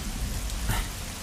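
Rain falls steadily on surfaces, a dense close hiss with a brief louder surge midway, heard alone without voices.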